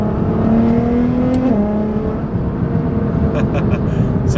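A Nissan GTR engine revs through its exhaust, a steady loud drone that climbs then steps down in pitch midway, with sharp higher bursts near the end.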